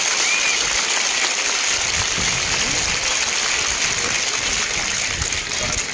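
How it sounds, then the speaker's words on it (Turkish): An outdoor crowd gives sustained clapping during a Republic Day celebration in Turkey, honouring a world champion athlete. The dense applause stays steady throughout, with faint voices mixed in underneath. "Şöyle kuvvetli bir alkış alabilir miyiz Esra'ya?"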